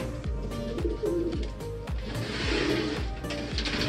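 Pigeons at a racing-club training session in Muñoz, Nueva Ecija, cooing in a repeated rhythmic pattern of low throaty calls about every half second, close and clear with a busy background behind them.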